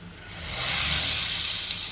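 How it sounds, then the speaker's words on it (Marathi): Hot tempering with pepper and chili powder is poured onto hot dal tadka and sizzles with a loud, steady hiss that swells quickly and holds. "गरम गरम फोडणी गरम गरम डाळीवर घालायची"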